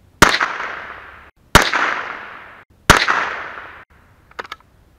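Three loud gunshots fired at a target ring out outdoors, evenly spaced, each trailing off in a long fading echo, followed by a few quiet metallic clicks.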